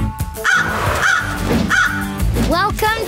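Cartoon crows caw in a quick series of loud, close calls, mixed with a character's speech.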